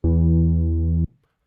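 A sustained, buzzy synthesizer tone through an Old Drive low-pass filter holds steady for about a second, then cuts off abruptly; its sound is dull and muffled, with the highs rolled off.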